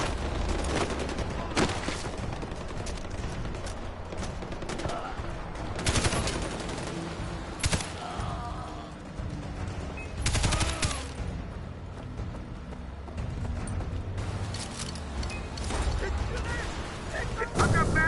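Heavy gunfire in a Far Cry 4 firefight on PS4: sustained automatic bursts and booming shots, loud and close, with shouted voices calling out contacts over the shooting.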